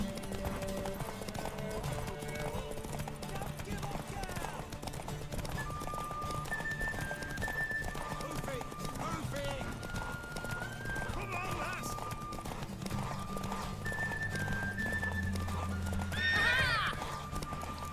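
A mare gallops with rhythmic hoofbeats in The Witcher 3, whinnying and neighing along the way, while game music and occasional voices play beneath.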